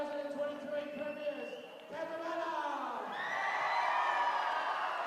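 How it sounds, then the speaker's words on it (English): Crowd and players roaring together at a rugby league grand final for under-18s, a broad sustained cheer with whoops that swells louder over the last two seconds, people talking underneath. "The roar from the crowd and from the team as they come together for a team photo."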